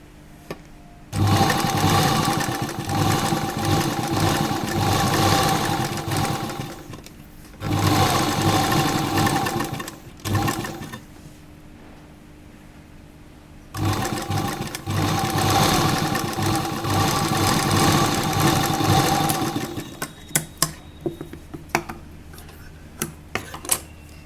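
A sewing machine runs loud and close in two long stitching runs along the edge of transparent fabric for a jacket dress, with a short pause between and a few clicks at the end.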